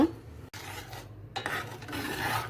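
A spoon scrapes and rubs around a pot of kulfi milk mixture thickened with cornflour over a low flame, producing close, gritty stirring strokes with short pauses between them.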